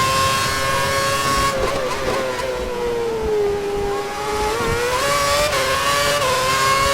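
A Formula 1 car engine in the F1 2011 game at Monte Carlo howls at high revs under steady load, its pitch dipping and climbing again through gear changes, loud and close with no talk.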